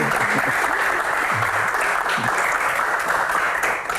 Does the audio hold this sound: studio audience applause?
yes